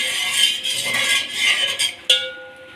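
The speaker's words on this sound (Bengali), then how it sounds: "তো চলো এবার একটু নাড়িয়ে দেব" A spoon stirs salted water in a cooking pot for biryani, sounding as bright metallic scrapes and clinks that end in one sharp clink with a lingering ring.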